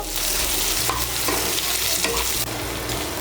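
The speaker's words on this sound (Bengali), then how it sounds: "পেঁয়াজ কুচিটাকে লাল করে ভেজে নিয়েছি" Chopped onion frying in a pan until browned, a steady loud sizzle with spatula stirring scrapes running throughout.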